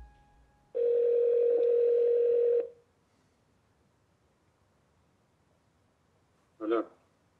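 A single long telephone ring tone on an outgoing call, steady for about two seconds, then silence and a short burst of a faint voice answering at the end.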